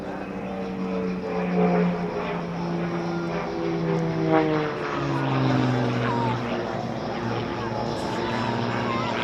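An aerobatic propeller airplane drones steadily overhead at an air show, its engine pitch rising and falling as it tumbles and maneuvers, with faint voices underneath.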